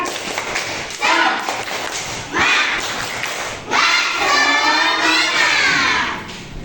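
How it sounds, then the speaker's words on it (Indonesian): Schoolchildren in an Indonesian classroom clap a rhythmic cheer chant in loud, repeated bursts, with voices rising over the clapping between pauses. "ayo kita tepuk semangat."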